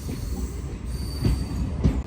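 A Secunderabad–Siddipet DEMU train runs along the line, with a steady rumble of wheels on rail, rhythmic low thumps at the rail joints, and a faint high wheel squeal, heard from onboard.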